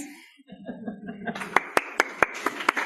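Applause from an audience at a guild meeting. A murmur of voices and chuckles at the start builds into a round of clapping with several sharp, distinct claps in the crowd.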